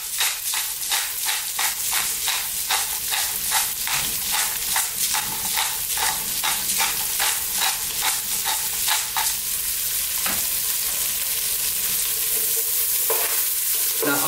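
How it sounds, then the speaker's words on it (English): Celery, carrots, cabbage and bok choy stir-fry over lively heat, with a steady loud hiss punctuated by a fast regular rhythm of tossing scrapes that thins out toward the end, close up with no talking. "So let's just throw these around. We're on a fairly lively heat for about another 2 to 3 minutes."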